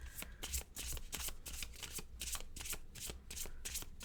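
Cards being riffled and shuffled in quick repeated bursts, close and crisp, with no talking.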